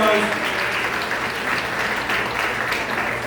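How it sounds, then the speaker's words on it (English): Guests at the Marketing Club of New York Silver Apple awards gala in the Edison Ballroom give a full, even round of applause that holds at a steady level throughout. "Give yourselves a round of applause."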